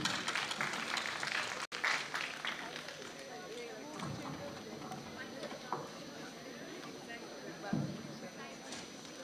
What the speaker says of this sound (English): May we please have a round of applause, sir?